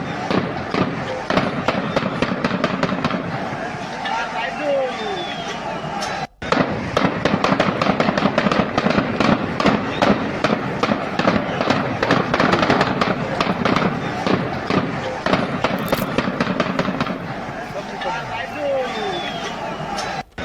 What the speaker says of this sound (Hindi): गोलियों की आवाज सुनिए रोकने के लिए।